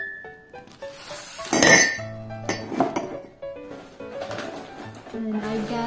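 A non-stick pan is handled among other kitchenware, giving a few close metallic clinks and knocks, with a louder clattering burst near the middle, over a voice talking.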